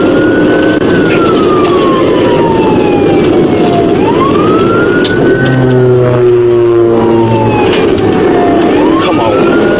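Police sirens wail during a high-speed highway pursuit, rising and falling sweeps up close over a loud, steady roar of traffic and engine, with a deep horn-like blare partway through.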